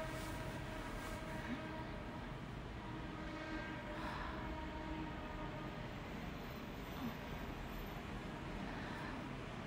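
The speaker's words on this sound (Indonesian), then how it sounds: "Berisik kereta." Passing train rumbling steadily and loudly throughout, a continuous rail roar with faint tonal hints, no clear horn.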